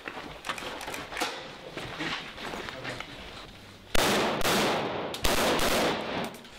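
Gunfire cracks along a street in Aleppo during fighting between Syrian rebels and snipers, with sharp repeated shots and bursts at mid distance, two louder, closer volleys near the end, and no speech over it.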